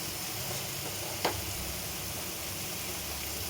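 Okra and tomato curry frying in a pan right after chili powder goes in, a steady close sizzle throughout with one brief soft clink of a utensil midway.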